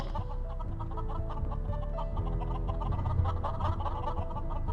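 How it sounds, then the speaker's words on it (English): A flock of chickens clucking busily and continuously over a dense, steady background din in Skyrim. "Shut up, chickens!"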